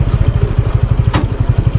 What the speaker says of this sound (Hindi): अरे नीचे टकरा गई बाइक